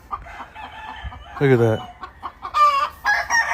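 A two-year-old pure chocolate brood hen clucks in short bursts, with a louder harmonic cluck mid-way and a few more near the end, while someone talks nearby.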